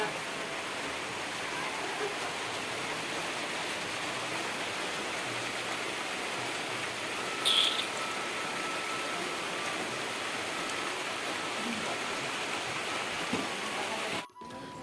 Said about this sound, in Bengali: অবশেষে একটু বৃষ্টি পড়া শুরু হলো